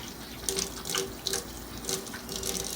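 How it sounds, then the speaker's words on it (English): Tap water runs steadily over hands being washed at a sink before preparing shrimp, a close, continuous hiss with small splashing surges as the hands move under the stream. "So we're going to wash our hands."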